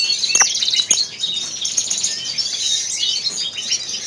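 A greenfinch hen in a show cage gives bright, repeated chirps and tweets, close and clear, with a brief flutter of wings among the calls.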